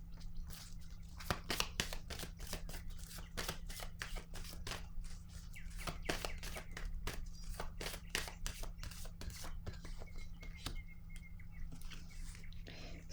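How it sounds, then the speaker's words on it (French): Tarot cards being shuffled and drawn, a quick series of crisp riffling snaps and flicks across the whole stretch, close and steady, without talking over a low background hum. "Je vais piger une autre carte."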